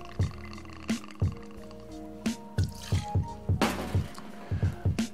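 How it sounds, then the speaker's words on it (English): Tanqueray gin trickles into a cocktail shaker as a series of soft, close drips and small splashes in an uneven rhythm, with no voices over them. "So you start with the cocktail shaker and measure out 60 mils of gin."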